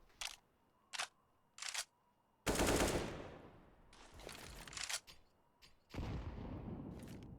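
Counter-Strike AK rifle gunfire on the Nuke map in a DreamHack Masters tournament match: a few sharp single shots, then longer crackling bursts of automatic fire with echoing decays, loud and close.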